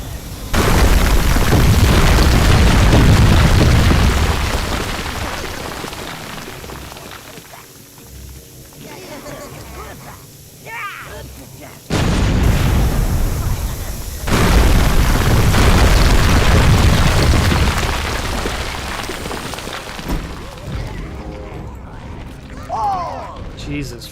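Loud, rumbling explosions from the video game Overlord: Raising Hell come in heavy waves, with booming bursts, brief quieter lulls and crackling debris between them.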